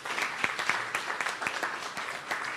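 A crowd claps continuously at a moderate level, a steady patter of many hands with no voices standing out.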